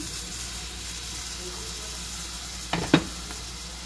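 Chicken breast fries in a pan with a steady, even sizzle close by, broken near the end by a couple of sharp knocks like a utensil against the pan.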